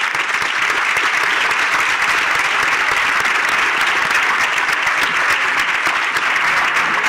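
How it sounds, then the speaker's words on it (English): A conference audience at the Innovation Stage of VDS2023 gives sustained applause for panel participants, a dense, loud wash of many hands clapping continuously, with no talk over it. "A big round of applause for the participants."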